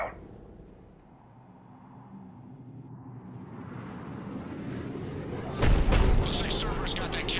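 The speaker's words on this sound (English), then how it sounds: "Looks like Cerberus got that cannon operational," A cannon fires in the video game Mass Effect 3, a heavy booming blast that erupts loudly near the end after a low rumbling build-up of game ambience.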